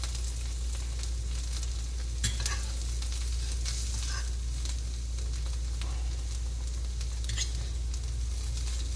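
A mashed potato pancake with onion and garlic fries in a pan with a steady, close sizzle, broken by occasional stirring and scraping clicks, with no talking.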